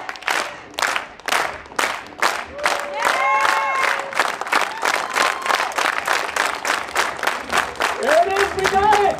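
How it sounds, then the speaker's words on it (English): A crowd at an outdoor Renaissance festival keeps up steady rhythmic clapping in unison, even regular beats with cheers and shouted voices mixed in, loud and close. "Let's get a rhythmic clap going."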